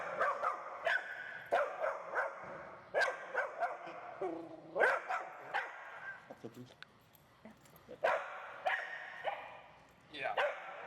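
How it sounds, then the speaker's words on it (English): A puppy barks indoors in short, sharp bursts, yips and a few whimpers scattered through the clip, close by, with people talking between the barks. "this is the barking that you see"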